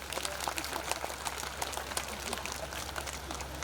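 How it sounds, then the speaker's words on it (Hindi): A meditation camp audience applauds together, a faint, steady patter of many hands clapping that continues evenly throughout, heard from a distance without clear voices. "जोरदार ताली बजाएं"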